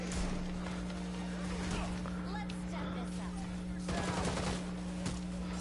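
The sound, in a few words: enemy gunfire in Gotham Knights video game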